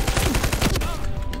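A machine gun in a free first-person shooter fires a rapid, steady stream of close, loud shots over a short burst.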